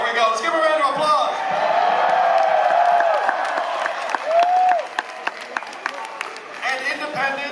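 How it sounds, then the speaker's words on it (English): Supporters at Andrew Yang's 2019 Los Angeles rally break into loud applause, cheering and whoops, a dense crowd roar that thins into scattered individual claps toward the end. "Let's give a round of applause."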